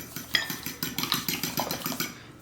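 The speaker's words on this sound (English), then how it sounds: "So just a quick whisk on those, and in that goes." Raw eggs beaten with a fork or whisk in a bowl for homemade noodle dough, a quick run of about a dozen rapid, even clinking strokes against the bowl, close and fairly quiet.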